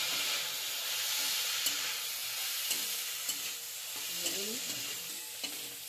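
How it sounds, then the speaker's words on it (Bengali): Onions already fried are stirred back into a pan with prawns, potato and drumstick flowers, giving a steady close sizzle broken by repeated scraping clicks of a spatula against the pan. "পেঁয়াজগুলো ভেজে রেখেছিলাম আমি দিয়ে দিচ্ছি, একটু নেড়ে চেড়ে ভেজে নেব"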